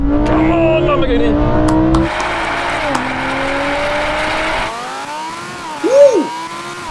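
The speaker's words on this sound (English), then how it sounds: "let's get into this drag race and see if things change" At a drag race launch, a 560hp tuned Audi S4 and a Lamborghini Huracan Evo roar loudly, engine notes rising and shifting through gears with a brief squeal-like whine near the end, under excited talk.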